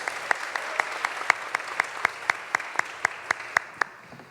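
Applause from a lecture audience with slow, sparse, evenly spaced claps, fairly close and fading out at the end, with no talk over it.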